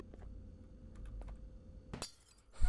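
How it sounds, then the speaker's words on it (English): Yellow glass shatters in the Garten of Banban 2 video game: faint clicks and taps lead into a bright crash with tinkling debris, then a heavier thud at the end. "Yellow glass is breakable material."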